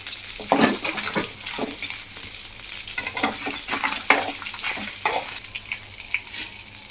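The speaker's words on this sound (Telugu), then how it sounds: "ఇప్పుడు దీనిలో ఎండుమిర్చి కూడా వేసేస్తున్నాను." Dried red chillies and green chillies fry in oil in a kadai for a coconut chutney, giving a steady close sizzle broken by scraping stirs, with no one talking.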